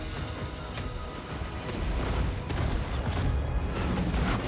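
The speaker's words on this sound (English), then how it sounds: "enough Streltsy should be able to gun him down" Streltsy handgunners firing in a Total War: Warhammer 3 battle: a dense, continuous crackle of many overlapping gunshots over rumbling battle noise, loud and sustained without pause.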